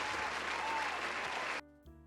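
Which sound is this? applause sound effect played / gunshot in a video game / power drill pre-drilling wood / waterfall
applause sound effect played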